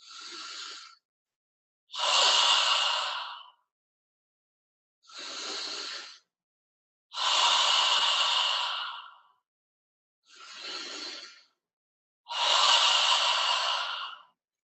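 Six deep, slow breaths alternating between a softer inhale through the nose and a longer, louder exhale through the mouth, each lasting one to two seconds with short silent pauses between them, close and clear with no talking.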